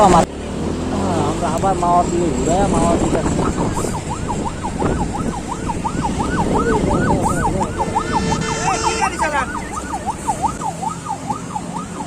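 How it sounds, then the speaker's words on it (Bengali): An ambulance siren wails in a repeating rising and falling pattern on a busy road near a Padma river ferry ghat, loud and close, with traffic noise and people talking underneath. "তো একটা অ্যাম্বুলেন্স ছিল তারপরে পিছনে ট্রাফিক পুলিশের গাড়ি"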